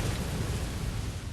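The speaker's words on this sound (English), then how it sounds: "Those explosions will hurt a lot." A Bloodborne explosion in the Old Yharnam area sounds as a dense, steady low rumble with broadband crackle. It holds at a constant level through the short stretch, with no talk.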